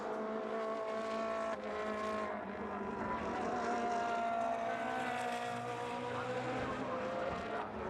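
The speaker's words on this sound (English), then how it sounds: "That number 177 car, one of the long-serving drivers in the Ferrari challenges, Fon's." Ferrari Challenge race cars lapping at Mugello, engines whining and revving loudly as they pass, under a race commentator's talk.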